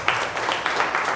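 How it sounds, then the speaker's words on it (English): Seminar audience on financial abundance and marriage applauding for themselves, a dense, continuous wash of many hands clapping close and loud, with no talking over it. "let's clap on for ourselves"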